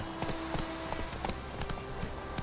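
Horse hooves clip-clopping at a steady trot in The Witcher 3, an even run of distinct hoof beats over a continuous ambient bed.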